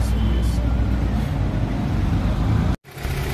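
A 1995 Opel Vectra engine idling up close after repair with a new timing chain and pump fitted: a steady, loud running rumble that cuts out briefly near the end before resuming.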